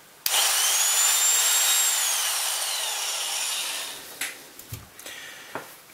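A Biax power scraper switches on abruptly and runs with a high, steady motor whine that slowly eases, then gives way to a few scattered knocks and handling clatters nearby.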